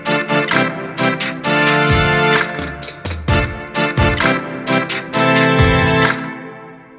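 A retro 80s/90s synth strings preset layered with brass from the Cheap Keys VST plays sustained chords in rhythmic phrases, loud and full, with short gaps between stabs and a fading tail at the end.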